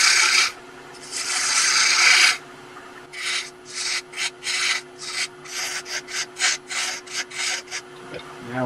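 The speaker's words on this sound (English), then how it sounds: "this spindle roughing gouge is a pretty good tool for just shaping this whole thing" A spindle roughing gouge shaping a wooden jar lid on a lathe gives a long rasping scrape, then a rhythmic series of short scraping passes over a faint steady hum.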